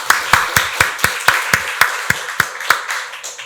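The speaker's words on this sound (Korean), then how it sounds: "박수로 하나님께 영광 돌리겠습니다" A church congregation at a Sunday worship service claps in a steady, unison rhythm of about a dozen sharp, evenly spaced beats, close and clear, with no voices over it.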